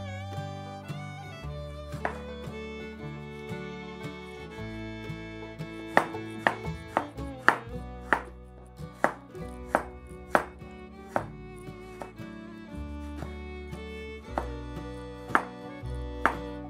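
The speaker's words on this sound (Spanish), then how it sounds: "Ahora lo siguiente, voy a picar los tomates." A knife chops tomatoes for Sonora-style Mexican hot dogs, sounding as repeated sharp taps on a cutting board under steady background music, with the strikes irregular at first and then closer together.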